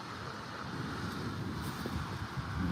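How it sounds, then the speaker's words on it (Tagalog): Wind roars steadily into the microphone, a broad continuous rumble and hiss with slight gusts, loud and close. "Ang sarap ng hangin"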